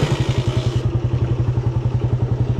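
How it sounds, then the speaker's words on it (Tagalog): Close by, a Suzuki Raider 150 motorcycle engine idles while warming up, with a fast, even, thumping exhaust rhythm and faint mechanical clatter over it. "So papainitin lang muna natin yung makina ng kahit na 1 minute."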